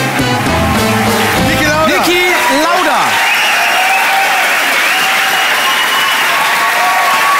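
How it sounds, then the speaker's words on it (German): Studio audience on an Austrian TV talk show bursts into loud, sustained applause with some cheering, while a host's voice rises briefly over it at the start. "Ja, Applaus!"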